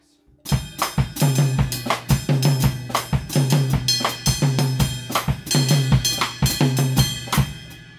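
Full Latin groove on a drum kit, with a left-foot clave pattern, cymbal strokes, and low tom and bass drum accents repeating in a driving two-bar cycle, close and loud without any voices.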